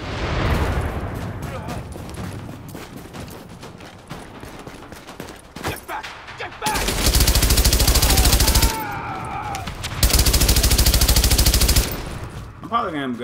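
Two long bursts of a suppressed MG5 machine gun in Tom Clancy's The Division, loud and rapid, separated by a short pause. Quieter clicks and rumbles lead in before them.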